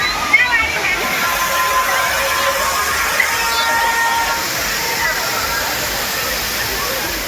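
Thirparappu waterfall in Kanyakumari district, crowded with Sunday tourists, gives a loud, continuous roar of falling water with faint voices mixed in.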